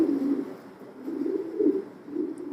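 A racing pigeon from a loft coos in low, rolling phrases, close and fairly loud, three throaty bursts with brief dips between, no talk over it.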